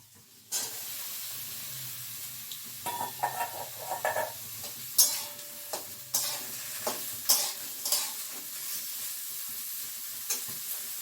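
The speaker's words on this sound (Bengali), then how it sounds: "পেঁয়াজটা দিয়ে দিয়েছি এবার ক্যাপসিকামটাও দিয়ে দিই একবারে" Onion and capsicum fry in a pan with a constant soft sizzle, broken by repeated sharp scraping and clacking as a spatula stirs them, close up and with no talk.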